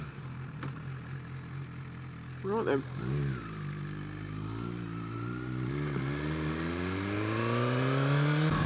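Suzuki GSX-R1000R motorcycle with a Yoshi exhaust fires up after a brief spoken remark, settling into a close, loud idle and then rising in a steady rev that climbs in pitch toward the end.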